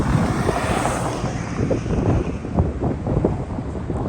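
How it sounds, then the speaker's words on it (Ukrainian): Strong wind buffets the microphone continuously, a dense low roar with gusty rumbling bursts and no voices. "але вітер сьогодні дуже сильний"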